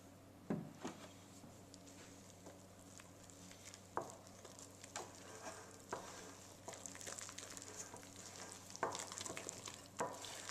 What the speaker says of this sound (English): add a little bit of milk and stir it into the potatoes